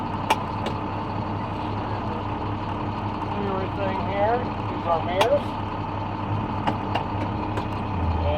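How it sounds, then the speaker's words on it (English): Tow truck engine idling and rumbling steadily on a gravel road, close by, with someone talking over it and a few clicks and creaks. "Now I can move the truck."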